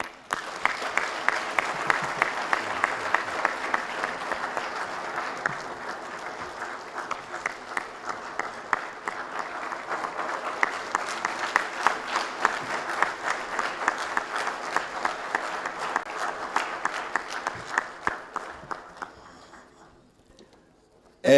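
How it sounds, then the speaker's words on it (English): An audience at the inaugural Kenneth Kaunda lecture applauds to welcome President Thabo Mbeki. Sustained, even clapping runs for about eighteen seconds, then fades out and leaves near silence. "please let us welcome and applaud President Thabo Mbeki."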